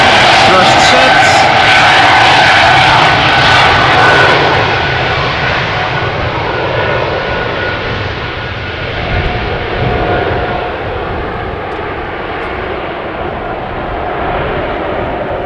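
Delta Airbus A330-300 jet engines spooling up at takeoff thrust at Amsterdam Schiphol, a loud, broad roar that dominates the opening seconds and then eases to a steadier, more distant rumble.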